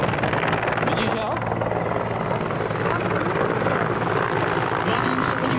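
Mi-24 military attack helicopter flying at an air show in Ivančice, its steady dense rotor and engine roar continuous and loud throughout, with a person talking over it.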